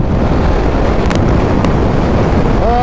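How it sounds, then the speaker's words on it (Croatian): Steady wind buffeting a rider on a 2008 Suzuki GSR 600 naked motorcycle, a loud continuous low roar filling the whole stretch, with a faint higher tone rising near the end. "Vitar mi jako smeta"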